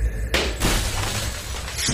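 A clay cooking pot drops to the ground and shatters, a sudden loud crash of breaking pieces followed by a brief rattling scatter of fragments.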